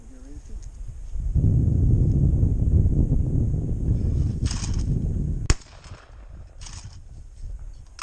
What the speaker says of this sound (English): Put 1, 2, 3 in, and then we'll get ready to shoot.